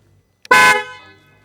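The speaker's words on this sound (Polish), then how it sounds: "Klakson. Najgłośniejszy, jaki kiedykolwiek spotkałem w jakimkolwiek motocyklu." A single loud, sustained horn blast from a BMW R 1250 RT motorcycle, sharp and close, lasting about a quarter second before trailing off into quiet ringing.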